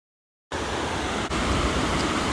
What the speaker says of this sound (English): if you ever needed white noise, natural white noise, just go sit by Whitewater River